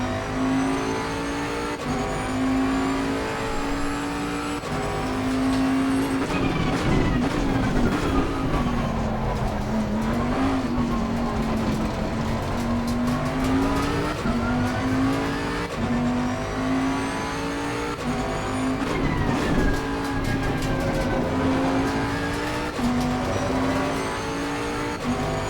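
A full field of 28 GT3 race cars howls around Zandvoort in Assetto Corsa Competizione, led by a 2021 Bentley GT3 whose engine drones loudly and steadily, rising and falling through gear changes amid the surrounding pack.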